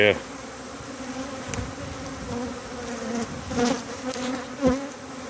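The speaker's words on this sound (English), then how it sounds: "It's a lot of bees, isn't it, Tom?" Dense buzzing of many bees fills the air steadily, with a few closer passes swelling louder now and then.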